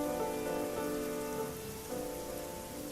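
Steady rain pours down on a surface as a continuous, close, even hiss with faint drop patter throughout, no voices.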